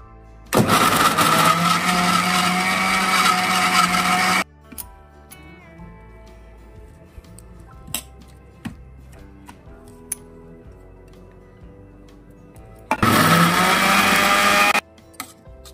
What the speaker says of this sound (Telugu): క్యారెట్ ముక్కలు టమాటా ముక్కలు వేసి మిక్సీ పట్టుకోవాలండి